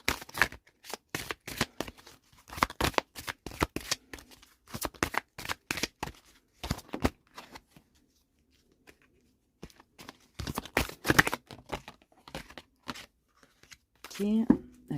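Tarot cards being shuffled by hand, with a quick run of crisp riffling bursts, a short pause, then another round, close and fairly quiet.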